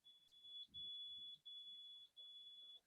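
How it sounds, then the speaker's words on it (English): An Arduino distance sensor's buzzer sounds a steady high-pitched electronic beep that comes in long tones with short gaps, over faint background noise, with no talking. "the moment I bring the sensor, because it is detecting the distance of the, what do you say, sensor, it is beeping"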